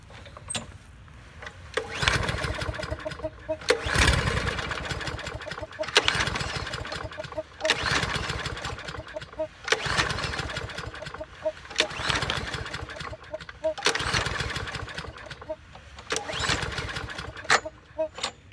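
A Toro lawn mower with a Briggs engine is pulled over and over but fails to start, giving a rhythmic series of loud recoil pulls with brief sputtering chugs, close by, with a rooster crowing faintly in the background.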